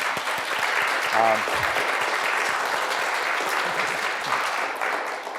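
A conference audience at MIT applauds continuously, a broad even wash of clapping with a brief voice or cheer near the start, easing slightly at the end.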